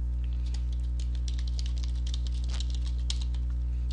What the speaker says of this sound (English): you then type in your website address, and it has to be the full URL.